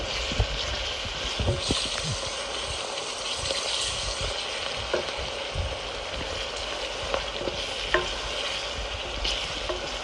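Onions frying in a pot for stewed potatoes, stirred with a steady hissing sizzle and occasional soft scrapes and clicks of the utensil against the pot, close and continuous with no talking.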